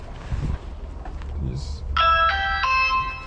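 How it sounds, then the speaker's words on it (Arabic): A food delivery driver rings the doorbell at a customer's home, producing an electronic multi-tone chime that sounds clearly after brief background noise and a soft bump. "وهو طلب مني ان انا ارن الجرس"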